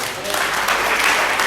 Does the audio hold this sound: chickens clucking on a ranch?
no